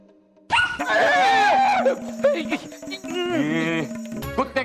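A human voice imitates a barking dog, giving a quick series of loud, close yelps and whimpering barks that rise and fall, with a short pause before a second burst.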